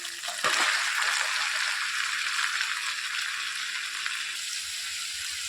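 Marinated chicken sizzles and spits steadily in a hot pan after it drops in, a loud, continuous frying hiss with no talking.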